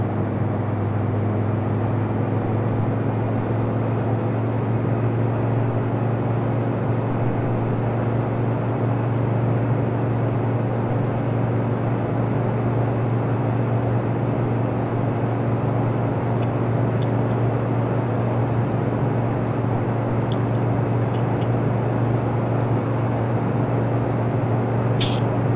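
Steady, loud airplane engine drone idling on a runway in Microsoft Flight Simulator, a continuous even hum held for the whole stretch with no talking over it.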